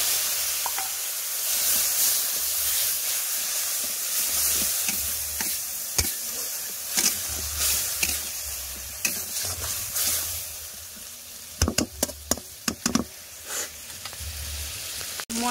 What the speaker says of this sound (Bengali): মশলাগুলোকে ভালো করে কষিয়ে নেব।